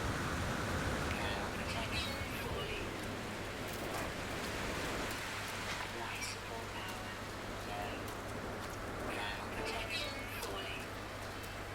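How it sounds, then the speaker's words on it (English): Rain falls in the video game No Man's Sky, a dense, even hiss of steady rainfall with scattered drop patters throughout, alongside a low constant hum. "I guess they've changed the rain as well."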